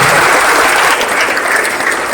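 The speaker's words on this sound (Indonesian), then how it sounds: "Tepuk tangannya untuk Ibu Fatma." Students and staff at a school orientation opening applaud Ibu Fatma, head of the horticulture agribusiness program, with loud, steady clapping from a large crowd throughout.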